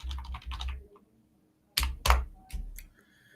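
Fingers type on a computer keyboard in two quick clattering bursts of close, crisp key clicks separated by a short silence, with no voices.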